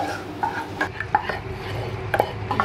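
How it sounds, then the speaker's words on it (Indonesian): Chicken pasta being stirred slowly with béchamel white sauce in a pot that is too small: close, continuous wet scraping and sloshing with scattered utensil clinks against the pot, no voices. "Aduk pelan-pelan aja ya"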